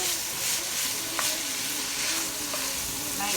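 Cauliflower fried rice sautés and sizzles steadily in a pan, a close, continuous crackle with occasional stirring scrapes and small clinks throughout.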